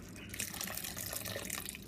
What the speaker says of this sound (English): So we're going to add some water.